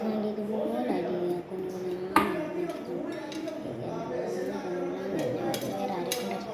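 A knife cuts mango on a cutting board in a home kitchen, giving a few sparse, sharp taps and clinks close by beneath steady talking.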